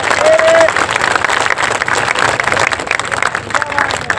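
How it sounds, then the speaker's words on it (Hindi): Crowd applause at an outdoor stage meeting for a political candidate, a short burst of loud clapping mixed with voices and a brief whistle-like tone. "जोरदार तालियों से इस्तकबाल करें"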